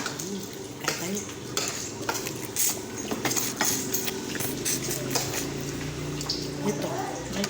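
Fish frying in a pan at a home kitchen, with steady sizzling under repeated scraping and clinking of a utensil stirring against the pan, while people talk nearby.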